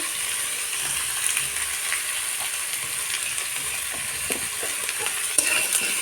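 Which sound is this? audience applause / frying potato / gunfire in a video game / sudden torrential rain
frying potato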